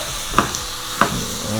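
Red beans being stirred into a pot of simmering sauce for a Caribbean-style dish, with two distinct scraping stir strokes over a faint steady sizzle, close and moderately loud.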